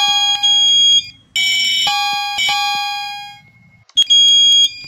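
A fire alarm system test in the Roblox video game: loud electronic alarm tones and buzzing signals sound in bursts that start and stop, with short gaps of near silence between them.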